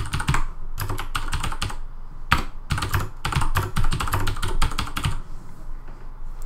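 Rapid typing on a computer keyboard, dense irregular bursts of close key clicks over several seconds, slowing to a few isolated taps at the end.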